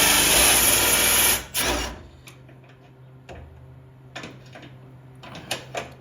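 Ratcheting wrench tightening the 15 mm and 18 mm nuts on an Eibach rear shock fitted to a 2015-2024 Ford F-150, in a few short bursts of sharp clicks after a loud opening noise.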